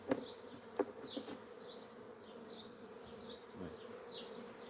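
Honeybees buzz steadily around an open hive during an inspection, a soft close drone with a few sharp clicks and knocks early on as frames are handled.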